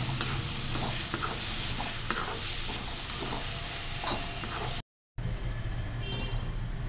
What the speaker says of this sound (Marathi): आता छान ही ग्रेव्ही तेल सुटेपर्यंत छान परतवून घ्यायची